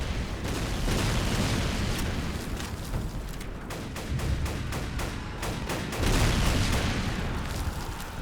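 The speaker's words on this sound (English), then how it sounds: "you'll have to kill a certain number of enemies with this machine gun" Rapid machine gun fire in a video game, a dense, continuous stream of shots with heavy booming layered throughout, steady and loud for the whole stretch.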